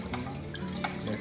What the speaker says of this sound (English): After I added that in, I'm going to stir that up just a little bit.